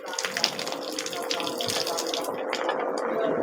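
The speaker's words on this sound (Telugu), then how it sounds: "ఇప్పుడు మనం జస్ట్ ఇలా అనుకుని ఇలా కడిగేసుకుందాం." Nannari roots are swished and rinsed by hand in a vessel of water, giving a steady close-up splashing and sloshing that carries on without pause.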